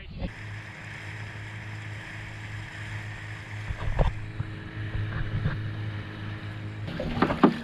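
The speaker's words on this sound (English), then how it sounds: "So this is how you get into a dinghy, apparently, Abigail styles." Someone climbing into a small dinghy on the water near Brisbane, with soft bumps, knocks and splashes against a steady engine-like hum and wind, scuffling louder toward the end.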